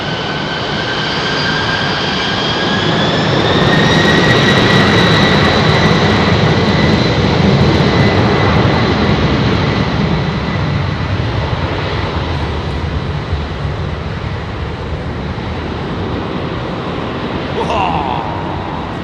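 An Emirates airliner roars loudly at London Heathrow Airport, a sustained broadband jet engine rumble with rising whining tones that swells and then holds steady throughout.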